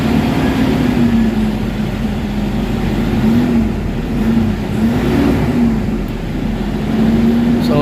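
A Toyota Hilux engine with low power, throttle delay and a non-working turbo runs close by at a loud, steady hum, its pitch rising and falling gently in mild revs throughout.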